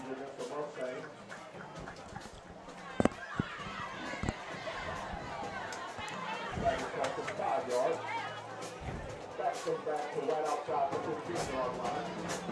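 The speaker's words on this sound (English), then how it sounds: "A great crowd here for the open night of high school football for the Mustangs." Steady crowd hubbub from the stands at an opening-night high school football game, Jackson Olin versus Fairfield, with broad murmuring chatter, a few sharp thumps and shouts, and voices mixed throughout.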